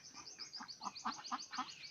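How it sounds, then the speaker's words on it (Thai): A small flock of ducks, including Pekin, Muscovy and Khaki Campbell breeds, quacks in quick, overlapping calls, fairly close and steady, with no voices. "นี่ก็คือเป็ดนะครับ"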